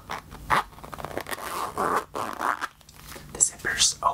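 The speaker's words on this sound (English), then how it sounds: "The zipper's okay on it." Zipper on a nylon headphone case with faux leather trim being pulled open, short close rasping zips and fabric rustles in uneven bursts.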